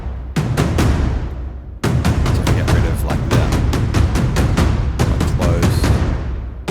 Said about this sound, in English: that's what I did this time for the tom stacks